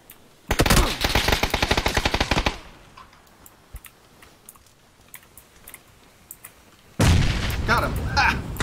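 In the PUBG video game, loud gunfire rattles in a fast burst, then drops to quiet for several seconds. A heavy grenade blast and more dense firing follow at the end.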